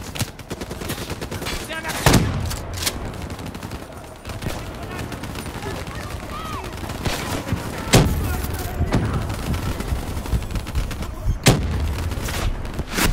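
Gunfire in Call of Duty Black Ops III, with several sharp shots standing out at intervals over a continuous battle din, dense and loud throughout.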